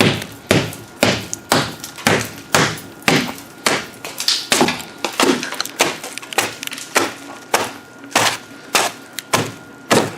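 A hammer strikes a car body repeatedly over a foam-filled, badly repaired panel, giving a steady series of close, hard, hollow thuds spaced about half a second apart.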